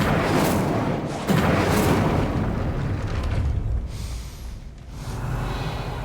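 Casting the Incendio fire spell in Hogwarts Legacy produces dense, roaring whooshes of flame, a loud burst up front followed by a sustained rumbling rush that fades and flares again.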